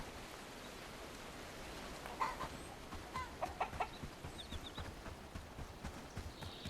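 Chickens in the farming game Bellwright cluck softly in a quiet scene, with a run of short, irregular clucks and calls that begin a couple of seconds in and continue at low level with no talk.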